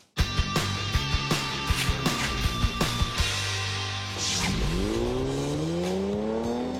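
A 2011 Mercedes-Benz SLK 350 accelerating hard: a steady loud engine note with repeated sharp clicks or ticks, then a rising roar as revs climb through the gears, close by with no talk.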